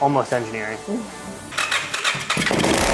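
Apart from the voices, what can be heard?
50HP Power Wheels engine starting for the first time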